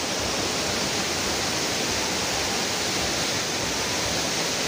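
Sinti waterfall roaring as a steady, dense wash of falling water, loud and constant throughout with no voices.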